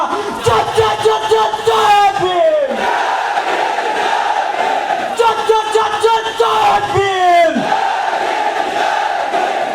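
A large crowd at a Meghwal community rally in Sirohi shouts slogans in unison, loud chanted call-and-response phrases in two waves, each rising in pitch and trailing off, with a leader's voice amid the roar.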